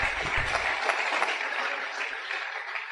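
Congregation at a church seminar applauding the Lord, a steady, moderately loud wash of many hands clapping, with a brief low rumble at the start and no talk over it.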